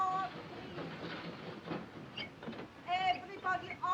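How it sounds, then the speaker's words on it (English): Departing passenger train in an old 1940 film set in Munich, heard as a soft rumble with hissing and faint clatter as it pulls out, ending in a few high whistle-like tones, with voices speaking over it. "The train is leaving."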